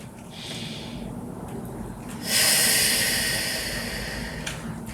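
A person breathes in and out steadily during a Pilates workout: soft airy inhales, then a longer, louder breathy exhale that fills the second half, close to the mic.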